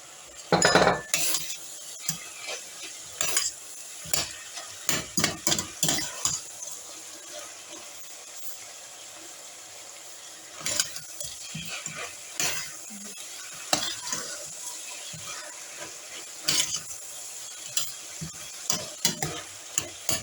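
Carrots stirred in a hot pan while frying for samosa filling: a soft sizzle under repeated clinks and scrapes of a utensil against the pan, coming in busy clusters with quieter gaps between, with no talking.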